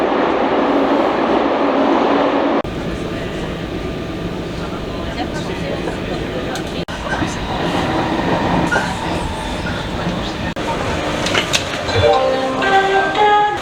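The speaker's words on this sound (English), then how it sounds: "I found the train." A train at Gare du Nord in Paris rumbles along with steady rail clatter and wheel noise through a loud, reverberant station hall, ending in a rising electric whine.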